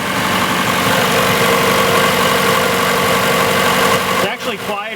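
A 1994 Mazda Miata engine idles after an exhaust flange gasket replacement, a steady, even, fairly loud mechanical hum with no audible leak, cutting off abruptly near the end.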